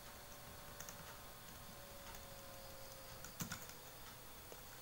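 Typing on the keyboard of a Compaq 510 laptop, soft rapid key taps running steadily under a faint background hiss, with one slightly louder cluster of clicks near the end.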